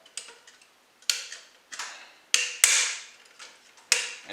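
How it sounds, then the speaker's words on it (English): A screwdriver prying a knockout out of a metal electrical box during a can light install gives a string of sharp, close metallic clicks and knocks in an irregular rhythm, with no talking. "you can pop out these little sort of indented circles in here with a screwdriver"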